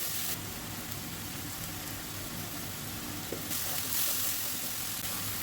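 Onion paste frying in hot oil for a taro curry, a steady dense sizzle that runs the whole time at a moderate level, slightly brighter and louder near the end, with no talking.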